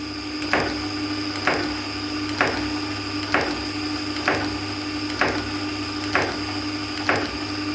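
A Taylor Hobson thread chasing lathe runs with a steady mechanical hum while its oscillating mechanism gives a regular click roughly once a second, evenly spaced and close by.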